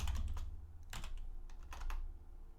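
Rapid clicking keystrokes from a computer keyboard while Geant4 code is written, arriving in short irregular bursts with brief pauses, close and fairly quiet, with no voice.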